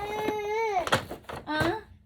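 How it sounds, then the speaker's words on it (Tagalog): A baby cries in wavering wails and short sobbing bursts, close and loud, with brief breaths between cries. "baby, ang ingay"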